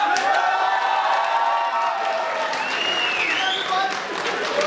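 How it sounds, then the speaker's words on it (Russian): A crowd roars with cheers and applause at the end of a KVN comedy team's performance in a university league, loud and sustained, with tonal whistles and shouts over the clapping. "все зрители орали и аплодировали"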